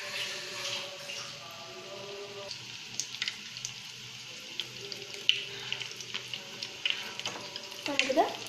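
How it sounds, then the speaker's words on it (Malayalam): Banana flower cutlets shallow fry in oil in a pan, giving a quiet steady sizzle dotted with small pops and crackles that grow busier toward the end. "നമ്മൾ ഈ കട്ട്ലറ്റ് ഒന്ന് ഷാലോ ഫ്രൈ ചെയ്തെടുക്കാൻ പോവാണ്."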